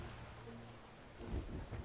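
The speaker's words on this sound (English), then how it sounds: "Raining and thunder." Steady rain hisses softly with a low rumble of thunder swelling near the end, faint and distant-sounding, in the video game Metaphor: ReFantazio.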